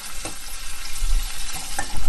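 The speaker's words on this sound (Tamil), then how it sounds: "இப்போ நம்ம கட் பண்ணி வச்சிருக்கிற தேங்காய் பல்லையும் இது கூடயே சேர்த்து ஆட் பண்ணி வறுத்தெடுத்துடலாம்" Coconut pieces fry in ghee in a pan, giving a close, steady sizzle and hiss with the scrape of a stirring spoon and a few soft knocks, no talking.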